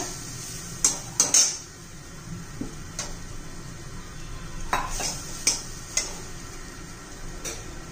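Grated fresh coconut dry-roasting in a pan over low heat, with a spatula scraping and clinking against the metal in scattered taps and a soft background hiss, fairly quiet and close.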